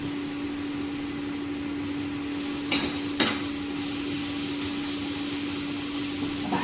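Asafoetida and cumin sizzle steadily in hot oil, a close, even frying hiss with a faint hum beneath and two quick metallic taps near the middle.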